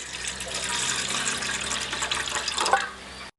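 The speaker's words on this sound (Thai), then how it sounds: "ต้มน้ำนะครับ น้ำก็จะใส่ไป ครึ่งลิตร" Half a litre of water pours steadily from a tap into a cooking pot, a continuous rushing splash that stops abruptly at the end.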